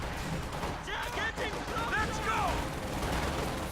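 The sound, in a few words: gunfire and shell explosions in video game Company of Heroes 2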